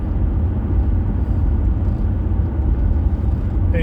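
Road traffic rolls past as a steady, loud low rumble and whir of vehicles, continuous with no distinct pauses.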